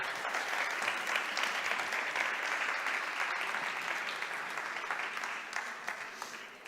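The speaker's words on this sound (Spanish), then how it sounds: "Muchas gracias, un aplauso para él." Conference audience at a cybersecurity talk giving sustained applause for a speaker, a dense even clatter of clapping that gradually thins toward the end.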